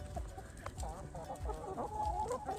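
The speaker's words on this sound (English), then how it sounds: "So the downside of teaching the chickens to follow me when I've got a metal bowl" Backyard chickens cluck and murmur close by in an Australian winter farmyard, several birds overlapping in soft, irregular calls over low background rumble.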